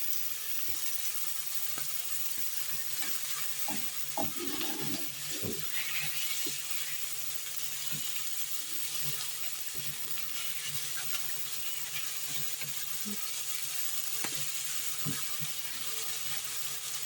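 Food sizzles steadily in a little oil in a pan as part of a fish dish with vegetables and rice. The hiss is faint and constant, with a few soft clicks and one brief bump of cookware, and no voices.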